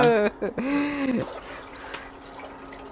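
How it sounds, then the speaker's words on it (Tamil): Water poured for instant ginger wine, a short close gurgling pour with a trickle that fades into quiet room tone, no talk over it. "இன்னும் கொஞ்சம் தண்ணி இருக்குது, அதையும் ஊற்றிடுறேன்."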